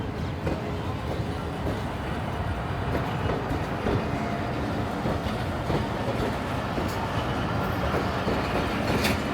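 The Shalimar Express rolls out of Lahore with a steady, close rumble of rail wagons and a faint rhythmic wheel clatter. Muffled voices are heard in the background.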